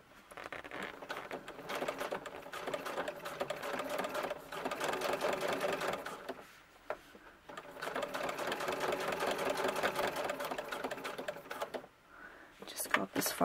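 A sewing machine stitches a green coat close to the seam in two long rapid runs separated by a brief pause, with a voice talking over it.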